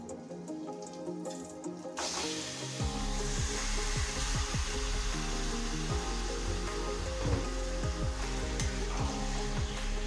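Chicken pieces hit hot oil with ginger and garlic in a pan, a sudden loud sizzle bursting in after a quieter start and continuing as a steady crackling fry with scattered pops and stirring sounds.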